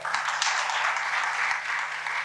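Audience clapping at a youth motivational gathering, honouring an army man seated among them, a brief steady wash of applause over a faint low hum.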